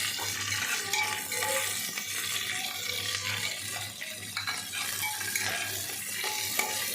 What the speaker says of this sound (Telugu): ఉల్లిపాయ పచ్చిమిరపకాయలు మొత్తం మసాలా సామాన్ అంతా మనం వేసుకొని కరివేపాకు వేసుకొని బాగా ఫ్రై చేసుకోవాలి